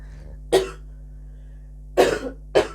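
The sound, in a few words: cough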